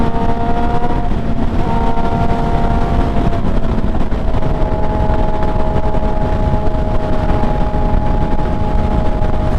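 MV Agusta motorcycle being ridden, a loud continuous engine note with a sustained whine that holds steady and drifts slightly in pitch throughout, no talking.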